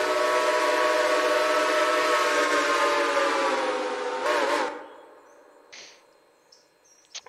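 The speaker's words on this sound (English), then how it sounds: "We have number 60's GTW 6 chime." Number 60's GTW 6-chime steam whistle in the Railroader video game, one long, loud, steady chord blast of about four seconds that wavers briefly before cutting off, followed by faint hiss and scattered clanks.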